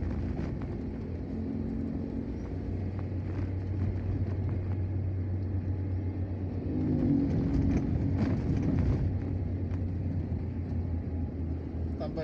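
Trucks and other large vehicles driving along the Palembang–Betung eastern cross highway, a steady low rumble of heavy engines and tyres that swells as vehicles pass, with someone talking over the traffic.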